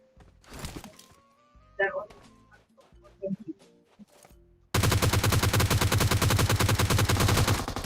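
Gunfire in the mobile game PUBG Mobile bursts into a loud, dense rapid volley of automatic shots that runs to the end, after a stretch of scattered speech and game sounds.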